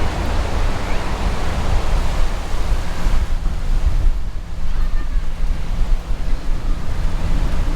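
Ocean surf washes steadily onto a beach in San Pedro, a continuous broadband roar with wind buffeting the microphone, loud and unbroken throughout.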